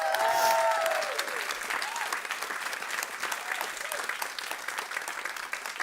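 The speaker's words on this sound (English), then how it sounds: "Please give farmers a round of applause." Audience applauding farmers at a talk on farm vitality: dense, steady clapping from a crowd that starts loud and settles to a sustained, slightly softer ovation, with a faint whistle-like tone near the beginning.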